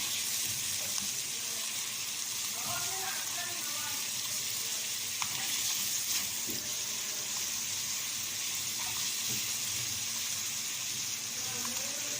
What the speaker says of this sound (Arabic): بصوا حبايبي كده الزيت سخن. احط بقى التومه